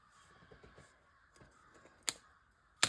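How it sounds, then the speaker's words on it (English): Crows caw outdoors in the morning, a few sharp calls ringing out at a distance against a quiet background, with the two loudest caws near the end. "Y'all hear my crows out there?"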